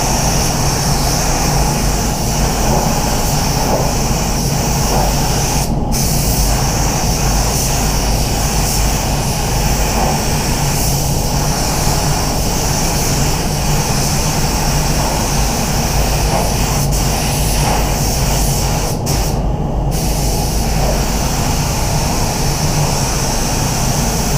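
A spray gun sprays paint onto a Ford Falcon boot lid, giving a loud, continuous compressed-air hiss and roar with little change throughout.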